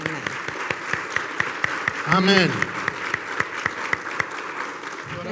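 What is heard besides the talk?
applause welcoming visitors at church service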